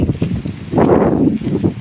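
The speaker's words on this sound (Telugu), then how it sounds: "ఏ బీభత్సమైన గాలి వస్తుంది చినుకులు వస్తున్నాయి" Strong wind with drizzle comes through as gusty roaring and buffeting against the microphone, swelling and easing in uneven surges, with no speech.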